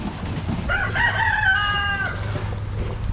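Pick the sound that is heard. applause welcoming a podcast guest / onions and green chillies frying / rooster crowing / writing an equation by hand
rooster crowing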